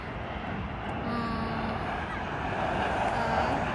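A military airplane coming in to land, heard as a broad, steady roar that builds gradually in loudness, distant but rising, with no clear talk over it.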